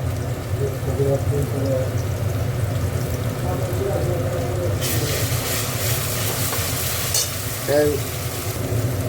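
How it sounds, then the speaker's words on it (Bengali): Tomato and green chili paste hits a hot pan of onion and garlic for a chicken gilemete dish, loud steady sizzling and frying with stirring scrapes, someone talking over it. "দেখো এইবার ওই কাঁচা লঙ্কা টমেটো পেস্টটা দিয়ে দিলাম।"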